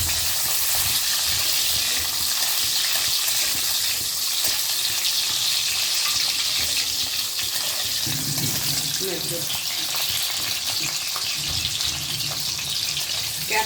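Chopped capsicum hisses in hot oil in a pan while cooking a spicy Bengali-style chicken dish, a steady, close, continuous sizzle over the whole stretch.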